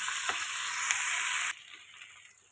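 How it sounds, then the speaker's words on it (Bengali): A loud frying hiss from a pan of soya chili cuts off abruptly when hot water is poured in, leaving a quieter low simmer with a faint clink. "এর মধ্যে আমি ছোটো কাপের 1 কাপ গরম জল দিয়ে দিচ্ছি"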